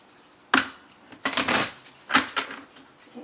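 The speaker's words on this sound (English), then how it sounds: "So I just give them a shuffle after I turn the camera on and cut them after I turn the camera on," Divine Animal Oracle cards being shuffled by hand, three separate bursts of crisp riffling and flicking, close and clear, with quiet gaps between them.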